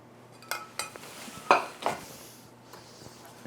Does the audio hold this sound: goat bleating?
no